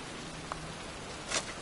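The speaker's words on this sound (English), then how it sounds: "Here I am, standing in a cemetery, pouring rain" Pouring rain in a cemetery, a constant quiet wash of falling water with a couple of brief brighter splashes near the end, no voices.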